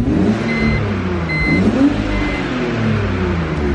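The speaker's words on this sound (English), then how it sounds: "Let me know in the comment section below what you think of the Z4 sound when the exhaust is detached." A BMW Z4 with its exhaust straight-piped revs up, a loud, close engine note rising and falling in pitch over a few seconds with no talking.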